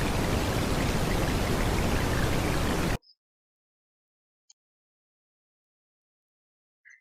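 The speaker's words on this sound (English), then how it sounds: "A sound of a pouring rain." A heavy, pouring rain in nature makes a loud, dense, steady hiss for about three seconds, then cuts off abruptly into near silence broken only by a couple of faint, brief ticks.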